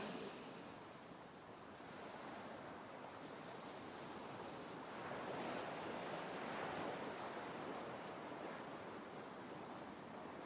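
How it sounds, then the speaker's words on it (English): Steady ocean surf washes continuously, a broad rushing roar that swells slightly louder midway, with some wind noise and no voices. "enjoying the sounds of the ocean."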